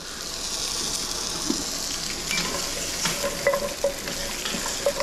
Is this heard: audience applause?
no